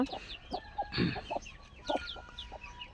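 Several chickens cluck in short, irregular bursts, some of them close and others a little farther off, with brief higher squawks mixed in, on a farm where a few laying hens are kept.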